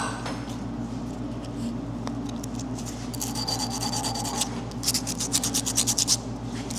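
Hand sanding of the small lead-in edges on custom metal forming dies cut with a waterjet: a steady rasping, scratchy rub throughout, growing into faster, louder back-and-forth strokes toward the end, over a constant low shop hum.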